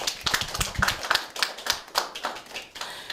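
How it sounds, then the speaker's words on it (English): Scattered hand claps from a small audience, a brief irregular burst of separate claps close by that rises and thins out over a few seconds; no talking. "Let's give her a round of applause"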